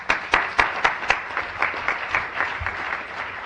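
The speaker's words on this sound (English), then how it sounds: "I think we all deserve a round of applause for ourselves" Applause from a conference audience at a talk on disability issues, a steady crowd of hands clapping with a few louder bursts near the start, fading slightly as it continues.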